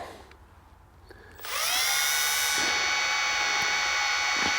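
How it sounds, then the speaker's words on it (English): A drill spinning up with an exhaust valve from a Yamaha 350 Warrior ATV chucked in it: a few faint clicks, then a sudden loud, steady high-pitched whine that holds close and constant to the end. "we're gonna take our exhaust valve. Just gonna throw it in our drill real quick,"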